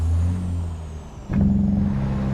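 A heavy truck engine in American Truck Simulator hums steadily, dips as the driver lets off to split gears, then jumps back up with a sharp rev and settles into a loud, even drone.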